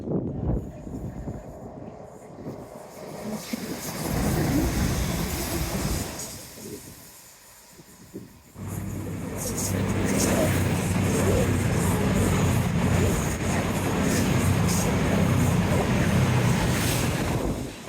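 Trains rumble past in two long waves of roaring, rattling noise in Teignmouth, the second louder and closer, with a brief lull between them.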